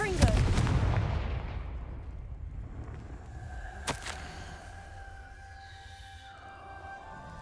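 A Confringo blasting spell in Hogwarts Legacy goes off as a heavy booming explosion that fades slowly. A second sharp crack lands a few seconds later, followed by sustained eerie tonal hums.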